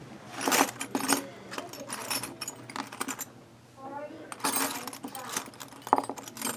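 Metal wrenches clinking and rattling against each other in a tool pile during guitar setup work, a busy series of light jangles and taps with a short pause and quiet talk in between.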